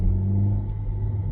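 A Honda CR-Z fitted with a Spoon N1 exhaust, whose steady, deep engine rumble holds close and loud through the whole short stretch, with no voices over it.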